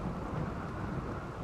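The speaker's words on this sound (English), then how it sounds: "Or a rainy thunderstorm going on right now." A rainy thunderstorm in the video game Rimworld: a steady wash of rain with a low rolling thunder rumble underneath, even and continuous, with no voices.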